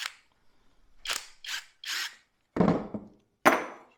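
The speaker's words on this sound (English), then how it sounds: "So just unscrew these things." Screws being backed out of a scrap brass valve with a tool, several separate short scraping and ratcheting bursts with gaps of silence, close and fairly loud, no voices.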